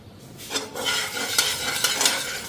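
Raw salted, chopped cabbage tipped into a hot pan in a home kitchen, giving a close crackling sizzle with rattling scrapes of a spoon against the pan, steady throughout.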